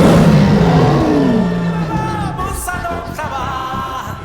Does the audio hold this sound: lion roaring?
yes